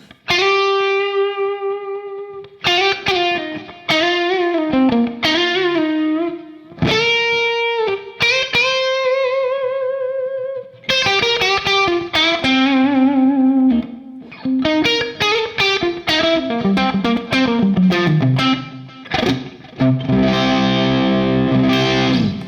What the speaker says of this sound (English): I love the sound of both pickups running at the same time